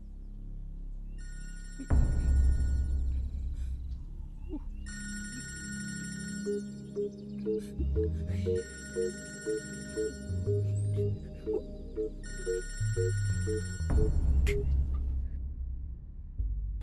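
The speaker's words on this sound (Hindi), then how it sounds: "भैया ये बिल्लू कबूतर को फोन लगाओ।" An old-style telephone rings in repeated bursts of bright electronic trilling, separated by short pauses, over a low background hum.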